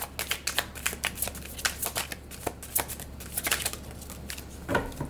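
A deck of tarot cards is shuffled up close for a reading, a rapid papery riffle of flicks and snaps that keeps on over a low steady hum, with no talking.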